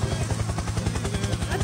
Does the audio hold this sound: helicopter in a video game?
yes